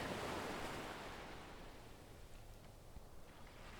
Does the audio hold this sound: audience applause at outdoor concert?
no